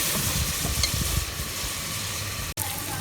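Masala and tomatoes fry in a karahi for mutton karahi, a steady close sizzle with stirring scrapes through the first half, continuing without talk and broken by one brief dropout near the end.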